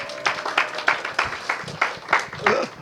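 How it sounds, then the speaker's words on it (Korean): A church congregation claps together during a Bible study on Galatians, with a steady burst of applause and rhythmic hand claps filling the room. "우리 박수."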